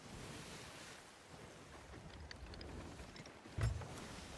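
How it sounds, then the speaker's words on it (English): Ocean waves wash steadily in the Sea of Thieves pirate sailing game, a soft continuous surf with wind noise, quiet and broad, with a brief louder splash or thump near the end. "The sound of the ocean is calming"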